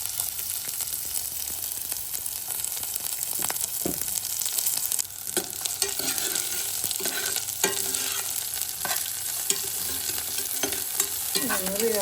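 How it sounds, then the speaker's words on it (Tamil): Green chillies and onion sautéing in a pan for a mint chutney, a continuous sizzle under repeated scraping and stirring strokes, close and steady for the whole stretch, no speech. "இதுக்கு அதாவது பச்சை மிளகாய், அடுத்து ஆனியன் எல்லாத்தையும் போட்டு வதக்கணும்."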